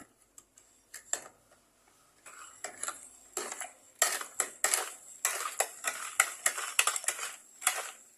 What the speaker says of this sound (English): What I'm going to do is just stir it up.